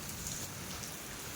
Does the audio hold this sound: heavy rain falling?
yes